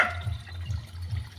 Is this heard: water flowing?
yes